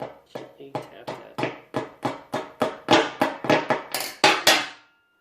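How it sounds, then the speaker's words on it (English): A hammer gently taps a roll pin into a glove box latch, about fourteen quick sharp metallic taps in an even rhythm that grow slightly louder, close up, ending in silence. "I can use the owl to hold it up while I gently tap that"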